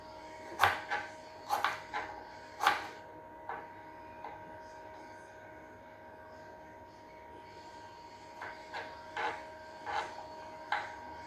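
A knife cuts raw mango for pickle into small pieces, giving sharp clicking chops against a board in quick clusters, then a pause before another run of taps.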